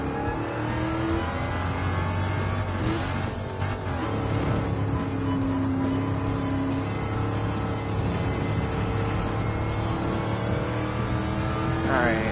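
A race car engine in the video game Gran Turismo 7 drones and revs steadily throughout, shifting pitch as it accelerates, with tire noise and a voice talking underneath.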